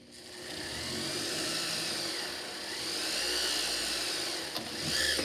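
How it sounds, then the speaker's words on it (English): A small bit drills a series of holes around a textured double-sided pendant, giving a continuous whirring whine that holds steady, dips briefly and swells again, close to the microphone and without any speech. "go around, drill out all of them."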